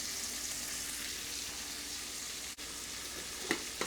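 Chicken frying in a pan of olive oil, a continuous close crackling sizzle with a couple of brief clinks or stirs near the end, and no talking.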